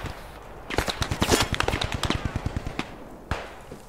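Machine gun tracer fire in the World War II shooter Post Scriptum: a rapid, loud burst of closely spaced automatic shots that tapers into scattered reports, followed by one last sharp crack.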